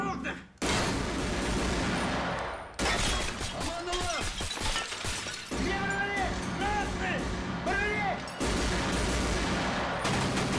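Gunfire from Escape From Tarkov, with rounds punching through metal lockers: dense bursts of automatic fire with sharp impacts fill nearly the whole stretch, broken by a few brief pauses, and a voice talks over it.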